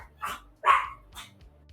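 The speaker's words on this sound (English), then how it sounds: "They're barking." Three sharp dog barks spaced about half a second apart, fairly close and fairly loud, with the middle bark the strongest, over a faint low hum.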